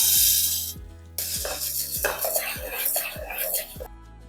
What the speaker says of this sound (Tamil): இப்போ கடலைப்பருப்பு அதே நூறு கிராம் அளவுக்கு வறுத்துக்கலாம்